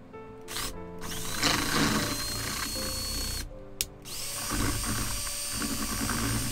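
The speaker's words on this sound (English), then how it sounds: "when you are mixing your epoxy with the mixer, you want to make sure that you scrape all of the sides and the bottom" A power drill spins a mixer attachment through epoxy resin, a steady whirring drone with brief pauses where the motor stops and restarts, close and fairly loud with no talking.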